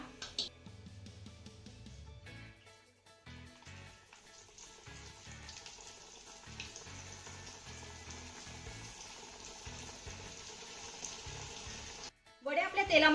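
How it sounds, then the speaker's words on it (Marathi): Coriander vadis fry in hot oil in a kadhai, giving a steady, fairly quiet sizzle that builds after a few soft clatters and runs evenly for several seconds before louder handling noises at the end. "आता आपण यामध्ये वडी सोडून तळून घेऊया"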